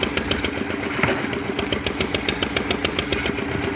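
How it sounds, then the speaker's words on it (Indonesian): A pile-driving machine engine runs steadily at a traditional Banjar pile-driving site, a close, continuous mechanical chug with a fast regular pulse and no one speaking. "satu orang lagi biasanya dia mengoperasikan mesin tumbuknya"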